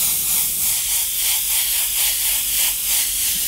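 An airbrush sprays a light dusting of paint in steady, close hissing bursts that pulse gently, with no talking.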